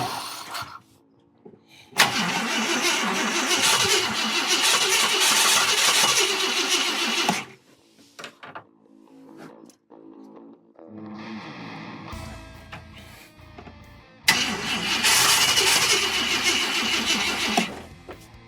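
A 1966 Ford Thunderbird after twenty years of barn storage cranks and catches twice, each time roaring loudly for several seconds of rough running, with quieter sputters and clunks in between and no voices.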